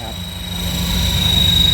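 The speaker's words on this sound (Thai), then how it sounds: "เฮลิคอปเตอร์ติด GPS นะครับ เห็นนะครับ บินเป็นเลขแปดเอง" A GPS-equipped RC Schweizer 470 three-blade model helicopter with a brushless-motor tail, flying figure eights outdoors: a steady, close engine and rotor whine that slowly grows louder, with someone talking over it.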